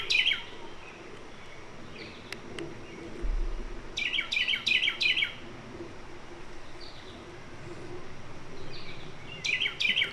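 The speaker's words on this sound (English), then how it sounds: "Can you hear the birds?" Small birds chirp in short bright bursts, a few clustered calls rising over a quiet outdoor farm park background in Martinsburg, West Virginia, with long gaps between them.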